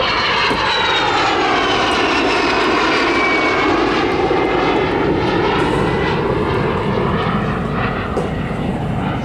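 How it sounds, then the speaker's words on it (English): A Norwegian de Havilland Vampire FB52 jet passes at an airshow, a loud continuous roar with a sweeping whine that rises and falls as the aircraft moves across, filling the whole stretch without pause. "This de Havilland Vampire, of course, part of the Norwegian Air Historical"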